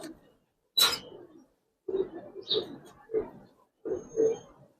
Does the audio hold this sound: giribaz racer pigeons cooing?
yes